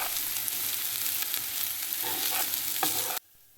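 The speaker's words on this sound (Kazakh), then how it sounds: "қызып тұрған майға осылайша 2 пиязды жақсылап қуырып, үстіне сол дайын болған бауырды салып, тағы да 1-2 минут қуырамыз" Onions and liver fry in hot oil for a chebureki filling, giving a constant crackling sizzle with soft stirring scrapes toward the end before the sound drops away abruptly.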